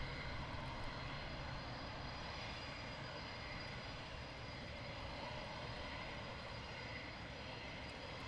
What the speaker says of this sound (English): So the sound of these jets taxiing out